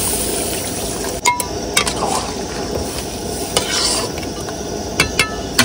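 Water goes into a curry simmering in a pan, producing a rough bubbling hiss with scraping stirs and a few metallic clinks, fairly loud and close.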